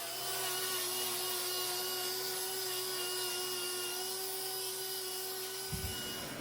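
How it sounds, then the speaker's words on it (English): A grinder removing tough wall horn from a cow's hoof: a loud, continuous high-pitched whine with a steady rasp throughout, cutting off abruptly near the end. "I'm using the grinder here to remove this wall horn here because it's extremely tough to cut away with my knife"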